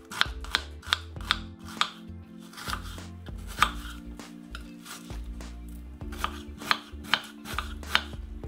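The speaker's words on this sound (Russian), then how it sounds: "Мелко порежем лук." A knife chops onion finely on a board with quick, light, irregular taps, close and quiet, in bursts separated by brief pauses.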